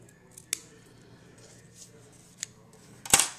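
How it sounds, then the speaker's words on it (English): Shears snip along the paper edges of a party favor box, making a few faint, separate cuts with a sharper, louder snip at the end. The clicks are close and quiet against a soft background hum. "taking my shears, I'm just gonna trim my edges"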